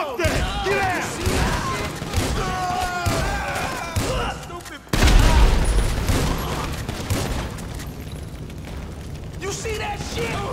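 Gunfire in Grand Theft Auto V rattles in repeated shots beneath steady talking, with a heavier thump midway and the shooting continuing afterward.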